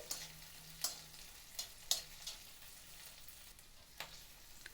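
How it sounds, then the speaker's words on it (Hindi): Quiet sizzling of ginger and garlic frying in a pan for matar paneer, with a few sharp spatters and light stirring scrapes, low and continuous. "और इसे भी थोड़ी देर भून लेंगे"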